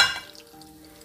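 Onion spread into a hot pan sizzles briefly, a short burst of frying hiss that fades quickly to a low, steady crackle.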